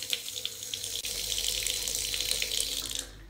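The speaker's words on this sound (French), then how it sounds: "L'eau des robinets est tellement bizarre ici." Water runs steadily from a bathroom tap, a close, continuous hiss and splash. It starts after a brief handling sound and cuts off abruptly near the end.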